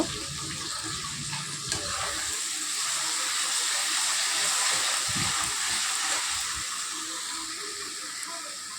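A paste of ginger, cumin, dried and green chilli and garlic sizzles in a pan for a mushroom curry while being stirred. A steady, close hiss of frying runs throughout, with a few soft low knocks.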